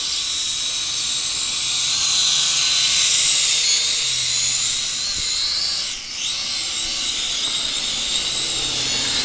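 An SHRC SH2HG camera drone hovers and flies nearby outdoors, its propellers making a steady high-pitched buzzing whine that holds even and dips briefly once before recovering.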